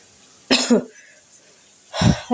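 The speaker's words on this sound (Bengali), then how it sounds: "কাশি আসছে কথাই বলতে পারছি না" Two harsh, close coughs burst out about a second and a half apart, with quiet pauses around them.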